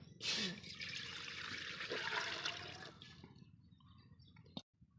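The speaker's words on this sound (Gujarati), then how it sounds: "હવે આપણે મૂકી દઈશું તપેલું અને એમાં નાખી દઈશું આપણે આ જે માપ કરેલું પાણી છે" Measured water pours steadily into a metal pot for a few seconds, a broad splashing rush that fades near the end with a small clink.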